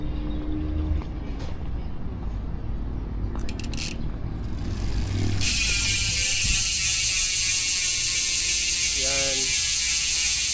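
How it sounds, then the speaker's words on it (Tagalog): A Speed 1 Soldier mountain bike rear hub with sealed bearings is spun on freewheel, giving a loud, continuous, rapid ratcheting buzz that starts partway through over background noise, with a brief spoken word. "yung tunog ng Speed 1 Soldier MTB hubs kapag naka-free wheel"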